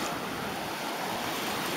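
Pacific Ocean surf at Playa Reyna in Mariato, Panama, a steady broadband wash of waves with some wind, close and continuous without speech.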